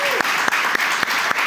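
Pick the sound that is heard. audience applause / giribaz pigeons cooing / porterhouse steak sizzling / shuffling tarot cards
audience applause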